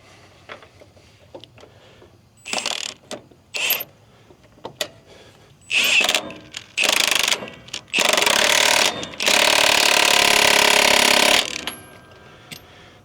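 A power tool tightens the leaf spring hanger on a Peterbilt 389 semi truck in loud, buzzing bursts that start short and stutter, then stretch into longer runs, with quiet clicks and shuffling between them.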